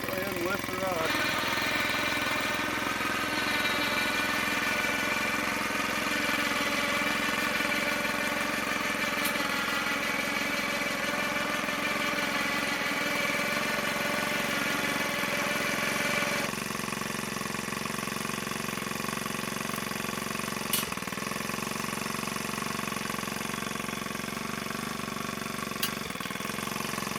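A small choked engine idles steadily and close by, a constant buzzing drone that holds throughout, its tone shifting once partway through before running on evenly.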